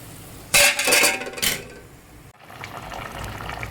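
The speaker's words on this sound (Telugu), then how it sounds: "కోడిగుడ్లు కొట్టి వేసేస్తాను" Six eggs cracked into a pan of boiling water: a loud burst of liquid splashing and bubbling near the start, several quick spatters, then a softer simmering hiss. No talking.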